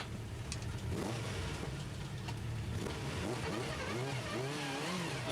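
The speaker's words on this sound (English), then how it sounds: "fires the car up again, off he sets." A TVR Tuscan race car in a 2003 one-make championship restarts and pulls away, its engine revving and rising through the gears, loud and continuous over distant circuit noise.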